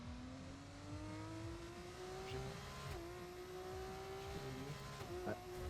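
A race car on a Las Vegas circuit weaving to warm its tyres, engine holding a steady high drone that rises gradually with small dips as the throttle lifts, continuous and moderately close, with faint background noise.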